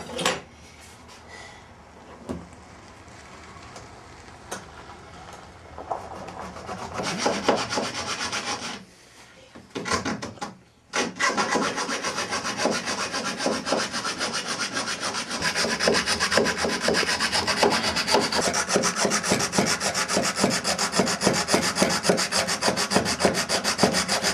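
Hand file rasping on a boat: scattered short strokes at first, then a brief pause, then continuous steady back-and-forth filing that stays fairly close and moderately loud.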